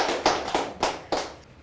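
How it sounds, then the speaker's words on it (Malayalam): Four hand claps from a studio talk-show audience land in a loose, evenly spaced rhythm, sounding fairly close but thin, like a small group clapping briefly rather than a full ovation. "Just ഒരു ക്ലാപ്പ് കൊടുത്തേ."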